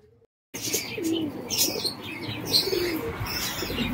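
Madras pigeons coo softly and repeatedly nearby, with faint chirps and light background rustling throughout.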